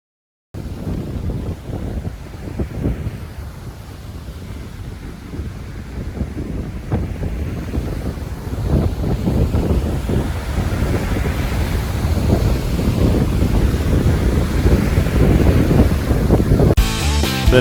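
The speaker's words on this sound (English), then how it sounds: "the wind was blowing 27 miles an hour and the temperature was in the 40s. So you can understand some of the waves that are rocking out there" Strong wind buffets the microphone over a constant wash of ocean surf at a shoreline RV park on a cold night of 27 mph wind, the roar steady and loud and swelling stronger in the second half, with no voices.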